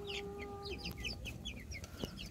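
Backyard flock of about fifteen chickens clucking and squawking in a busy cluster while fed cracked corn, with overlapping short calls, a brief rooster-like tone early on and light pecking and rustling close by.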